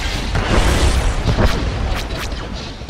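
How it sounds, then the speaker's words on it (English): Blaster fire in a SWTOR space battle over Jabiim crackles in loud, close, rapid bursts, layered over a heavy booming engine rumble with repeated sharp zaps toward the end. "They're shooting!"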